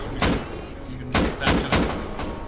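Several separate gunshots in the survival game Rust, five or six sharp cracks spaced unevenly over a couple of seconds against a steady background rumble, fairly close and punchy.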